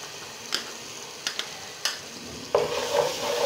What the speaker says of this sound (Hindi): अब मैं इसमें अदरक लहसुन का पेस्ट शामिल कर रही हूँ।